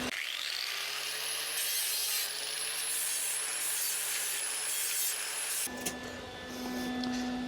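Steady, loud grinding on a metal patch during rust repair on a 1964 Chevy C10 pickup, running continuously for several seconds before shifting to a different whine near the end, with no talking.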